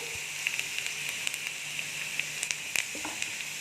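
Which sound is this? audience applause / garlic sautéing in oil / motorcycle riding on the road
garlic sautéing in oil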